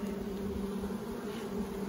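Honey bees from a nuc box being installed into a long hive hum in a steady, low drone close by, a continuous buzz with no talk over it.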